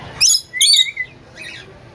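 A pet bird at a bird shop gives two bursts of loud, bright chirps close by, followed by a fainter, shorter call against a quiet background.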